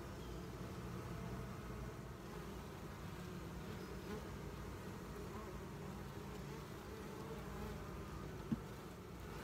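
Honeybees from an opened late-split hive buzz in a steady dense hum close by, with a faint click near the end and no talking.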